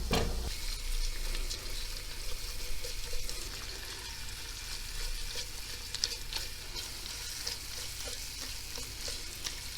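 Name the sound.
tomato and pepper paste frying in pan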